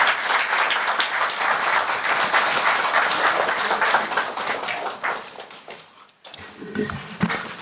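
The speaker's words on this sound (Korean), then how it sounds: "박수로 맞아주시기 바랍니다." An audience at a Korean political roundtable applauds to welcome a speaker: loud, dense clapping that holds steady, then fades and breaks off, and a voice begins speaking at the end.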